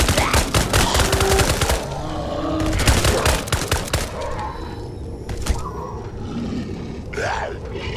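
Bursts of automatic gunfire in the VR shooter A-Tech Cybernetics, sharp rapid shots in two clusters followed by scattered single bangs, creature growls and fading echoes as the firing stops.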